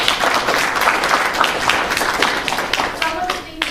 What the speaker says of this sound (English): I want to just give you another round of applause.